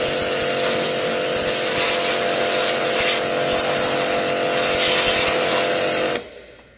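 A Bonchi high-pressure washer spraying water to clean a motorcycle, a loud steady motor hum with hissing spray that runs continuously and then cuts off abruptly near the end.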